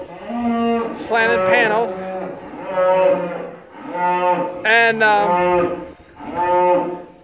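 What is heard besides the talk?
cattle mooing in a steer barn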